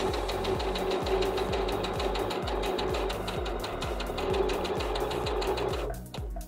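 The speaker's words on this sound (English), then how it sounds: "I'm going to do a regular stitch." A sewing machine stitches fabric along a corner with a steady, fast mechanical rhythm of needle strokes, loud and close, that stops just before the end.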